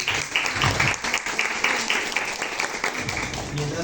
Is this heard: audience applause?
yes